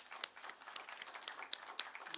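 Scattered clapping from a pension conference audience honoring the Nation Media Group, faint and uneven, with a few sharper claps standing out from the soft patter.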